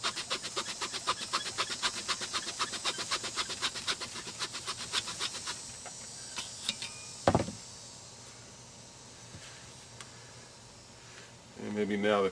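A hand saw cuts through a bougainvillea bonsai branch in quick, rhythmic rasping strokes that fade out midway, followed by a sharp snap and later some handling noise.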